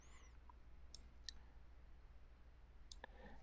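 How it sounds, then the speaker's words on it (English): A computer mouse gives a double click on a button, two small sharp clicks close together in a quiet room, with a few faint taps around them. "So let's double click our button."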